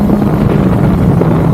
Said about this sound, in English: get back on the throttle and jump